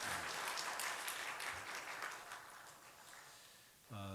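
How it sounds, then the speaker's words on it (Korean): A church congregation claps in congratulation, a quiet, dense patter of applause that fades over a few seconds before a voice begins speaking at the end. "축하의 박수 드리겠습니다."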